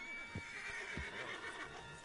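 A horse in Red Dead Redemption 2 lets out a sustained whinny over a few soft hoof thumps and a low background hum, fairly close and clear.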